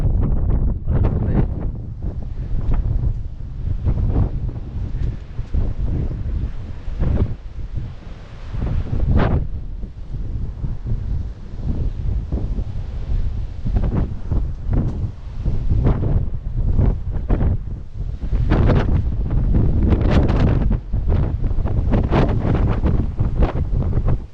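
Strong gusts buffet the microphone on a coastline in Iceland, a loud, rumbling wind roar that surges and eases in waves, with possible surf beneath it.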